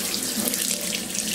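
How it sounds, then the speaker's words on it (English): Water runs steadily from a shower spray during bath time for a monkey, a close, even hiss and splash with no break across the short stretch and no voices over it. "you wanna go with the shower, Boo?"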